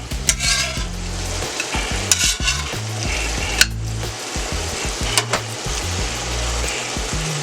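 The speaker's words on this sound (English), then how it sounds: "Starting to fry up nicely." Bologna sizzles and crackles steadily in a hot pan, with a few soft scrapes and clinks of a utensil stirring now and then.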